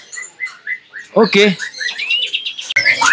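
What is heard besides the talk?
murai batu (white-rumped shama) bird singing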